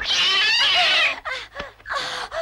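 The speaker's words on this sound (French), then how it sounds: "Tu as bien vu que ce n'était que le chat" A cat meows in a French action film: one loud, drawn-out yowl up close, then several shorter meows with brief gaps, with no other sound.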